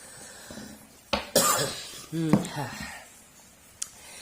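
A few coughs, one sharp and then a couple of wheezy, rasping ones, close by in an otherwise quiet room.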